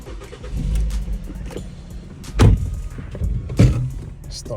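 A 2007 Ford Focus engine turns over and catches, settling into a low, steady idle rumble close by, with two sharper revving surges partway through.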